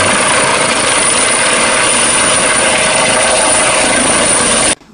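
A steady, loud whirring buzz of a green toy helicopter's spinning rotor runs continuously, then cuts off abruptly at the end.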